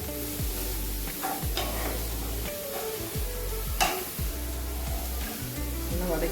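Grated carrots for carrot halwa sizzle and get stirred in a pan on a stove at medium heat, a steady frying hiss with periodic scraping strokes, with no talking.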